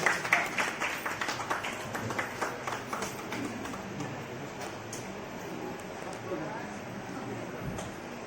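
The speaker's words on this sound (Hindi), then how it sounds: "जोरदार तालियों से स्वागत सर का।" Applause from a crowd gathered at a government welfare camp, greeting an arriving guest: dense clapping that peaks early then carries on steadily at moderate level, with a voice talking over it.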